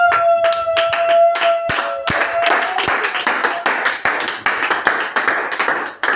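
Church congregation claps in a brisk, rhythmic beat, sharp hand strikes repeating close by, with a held musical tone under the first couple of seconds before the clapping thickens.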